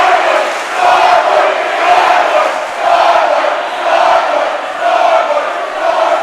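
Rival high school student sections chant in a packed gym during a Reagan versus Mt. Tabor basketball game, loud rhythmic crowd chanting swelling and falling in repeated waves, carrying on without any nearby talk.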